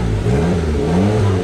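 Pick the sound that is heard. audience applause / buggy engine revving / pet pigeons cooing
buggy engine revving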